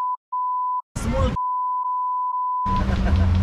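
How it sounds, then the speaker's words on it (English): Steady electronic beeps on a busy Bali street, one short tone then longer sustained tones repeating, loud and clear, interrupted by bursts of street noise and traffic. "I think you hear a lot of beep beep beep now."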